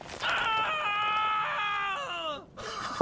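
A captive bandit from the Screaming Bandits gang in a video game lets out one long, wavering cry that bends and falls in pitch over about two seconds, then stops before a brief burst of noise.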